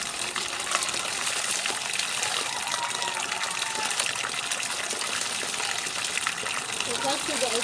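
Water gushes and splashes steadily while laundry is rinsed, a continuous close running-water sound with faint clatter throughout.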